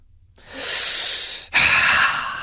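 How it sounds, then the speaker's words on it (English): A person takes a deep breath, with a long airy inhale followed by a brief pause and a strong, close exhale, heard alone. "Deep breathing."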